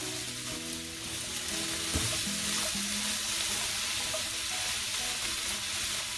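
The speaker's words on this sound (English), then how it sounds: "So we're just gonna cook the shrimp and the bok choy down." Shrimp and bok choy sizzle steadily in a hot pan for chow mein, a loud continuous frying hiss with a few stirring scrapes and a brief clank near the start, no voices.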